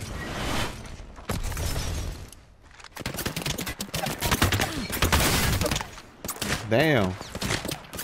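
Video game gunfire crackles in rapid bursts of shots, loud and close, with short gaps between volleys, while a voice briefly speaks over the shooting.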